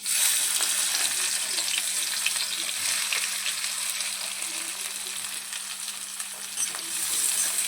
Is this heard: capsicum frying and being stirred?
yes